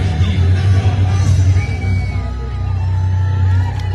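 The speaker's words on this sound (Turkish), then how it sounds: "şöyle yüksek ses yüksek çığlıklar sizlerden yine" A large outdoor rally crowd yelling and whooping loudly, a continuous roar of voices with a low hum beneath it throughout.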